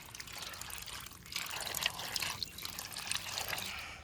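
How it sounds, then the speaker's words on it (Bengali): Small fish rubbed and washed by hand in water give close, soft sloshing and trickling, with bursts of splashing and dripping at an uneven pace. "মাছটা ভালো করে ঘষে ধুয়ে নিচ্ছি"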